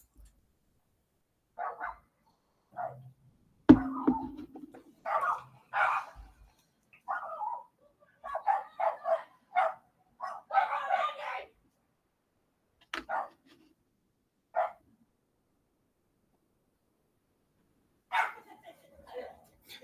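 Dogs bark in bursts indoors, sharp yips and barks scattered across the stretch with pauses between, moderately close, with some faint whimpering and no clear speech.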